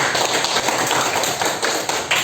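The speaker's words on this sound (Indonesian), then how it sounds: "Oke, tepuk tangan buat kalian semuanya." Classroom of students applauding together, a dense steady burst of clapping lasting a couple of seconds, loud and close with no talk over it.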